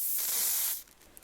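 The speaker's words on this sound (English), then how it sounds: "I'm going to be spraying with a little bit of hairspray just to keep those curls nice and tight." Hairspray misted onto freshly set curls in a vintage 1940s hairstyle, one close, bright hiss lasting under a second and then cutting off.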